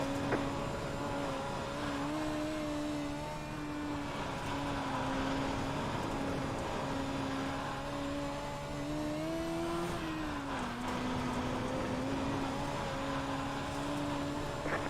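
Dirt midget race cars circling a dirt track at Limaland, a steady, loud engine drone holding one pitch that rises and dips briefly as the cars work through the corners, with no talk over it.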